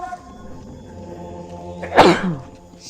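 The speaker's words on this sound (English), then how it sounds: "I'm about ready to sneeze" A single sharp sneeze bursts out near the end, close and loud, over a quiet background hum.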